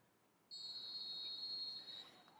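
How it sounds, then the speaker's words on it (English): A referee's whistle opens a high school football (soccer) match at Minneapolis South High School with one sustained, piercing blast that rings out for about a second and a half over quiet outdoor ambience. "There's a whistle, and we're off here from Minneapolis South High School inside the first minute."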